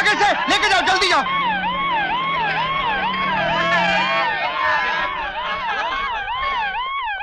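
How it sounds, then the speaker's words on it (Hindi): An ambulance siren wails in a steady rising and falling cycle, loud and close, after a brief burst of crowd shouting and over a low rumble of traffic and people. "ये सब क्या है चाचा? ये एम्बुलेंस,"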